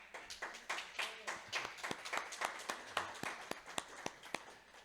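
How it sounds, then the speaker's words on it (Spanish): A church congregation claps at a Spanish-language service, giving a scattered, fairly quiet round of individual hand claps with a loose rhythm and some faint voices mixed in. "Damos un aplauso a Dios."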